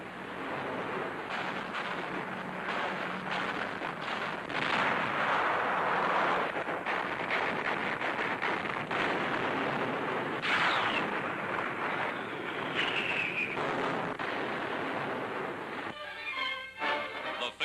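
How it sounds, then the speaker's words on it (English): Anti-aircraft fire against attacking bombers over Rommel's Africa Corps in a 1943 newsreel comes through as continuous rumbling, crackling barrage noise with distant booms, dense and grainy throughout. "Anti-aircraft fire fails to stop them."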